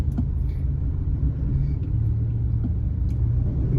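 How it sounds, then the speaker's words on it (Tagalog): Low, steady rumble of slow road traffic on the Skyway near Santa Mesa, engines droning close by with faint higher noises, no talking. "Traffic na tuloy dito sa Skyway."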